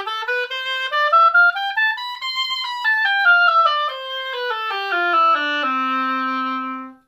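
A single melodic instrument plays a musical scale in one common pattern, notes rising step by step then descending back down, ending on a long held low note, heard alone and fairly loud.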